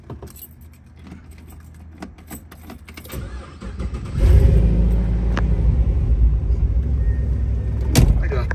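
A 1957 Cadillac Series 62 convertible restomod with an LS2 V8 starts: a few key jangles and clicks, then the engine cranks and catches about four seconds in, settling into a loud, steady, deep idle with a brief blip near the end.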